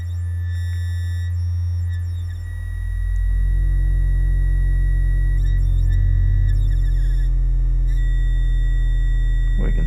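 The second oscillator of an ArcSyn synthesizer sounds alone as a steady, sustained electronic tone that shifts in pitch partway through, then holds on a loud, continuous droning note with no voices.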